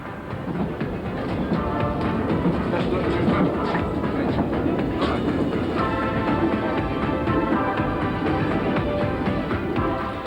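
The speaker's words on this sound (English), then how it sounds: "the train glides out of the mist" A train rumbles past steadily for about ten seconds in mist in Wales, a continuous rolling roar with faint rhythmic clatter, fairly close and loud throughout.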